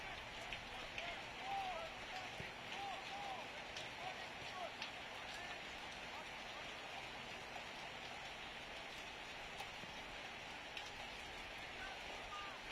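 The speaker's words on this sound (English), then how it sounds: "Rain continues to pour down as it has been for the last couple of hours." Heavy rain pours down steadily during an MLS NEXT PRO soccer match, a constant hiss of rainfall that runs through the whole stretch, with crowd or field noise faintly mixed in beneath it.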